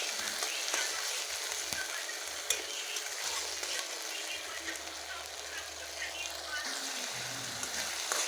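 Ground spices fry with tomato paste and a little salt in a hot pan for a banana-flower and lentil dish, giving a steady, close sizzle with occasional scrapes of stirring.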